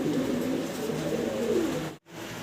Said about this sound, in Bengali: দেখতে পারতেছেন সিঙ্গেল এক পিস মুন্ডিয়ান কবুতর